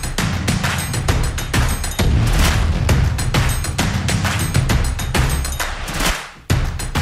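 Rapid, loud gunfire from a range, shots aimed through a red dot sight, booming in a dense continuous barrage with one brief dip near the end.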